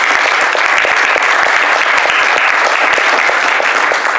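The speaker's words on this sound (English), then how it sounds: "And once again, one more round of applause for Erner." An audience at a charity Dungeons & Dragons panel gives a loud, continuous round of applause, dense and even from start to finish with no talk over it.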